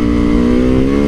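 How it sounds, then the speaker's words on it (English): A supermoto motorcycle engine revs loudly up close, its harmonic buzz holding steady and climbing slightly over a brief moment, with no voices. "Having a good old time out here on my supermoto."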